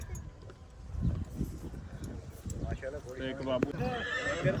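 A Nukra breeder stallion at a farm gives a strong whinny near the end, with hoof clops and people talking nearby throughout.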